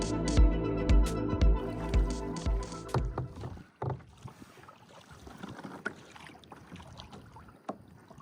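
A kayak is paddled across calm sea between islands in Cambodia, with rhythmic close paddle strokes and water splashes over the first few seconds, then quieter gentle water lapping and faint wind.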